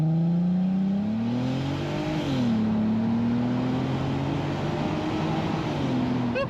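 An Audi TT fitted with a cheap Temu exhaust accelerates hard from 0 to 60, the engine droning loud and close, its pitch climbing, dipping at a gear change, then rising again.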